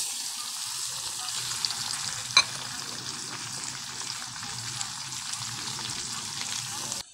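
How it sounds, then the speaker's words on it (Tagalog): Shredded cabbage sizzles and crackles steadily in a hot oiled pan while being stir-fried for pancit bihon, a constant close frying hiss with one brief sharp clink near the start. "Daglag na natin dito yung cabbage"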